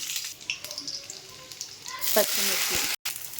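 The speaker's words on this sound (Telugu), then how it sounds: "ముందుగా ఆయిల్ వేడి చేసి ఆవాలు, ఎల్లిపాయలు," Mustard seeds and garlic frying in hot oil for a spinach dal, a close crackling sizzle that swells and grows denser partway through, with brief pops and a voice speaking over the start.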